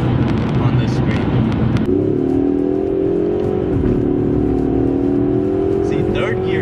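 A 2021 Ford Mustang EcoBoost Premium engine revs hard toward the top of third gear, heard from inside the cabin as a loud, steady, rising drone with wind and road noise beneath it.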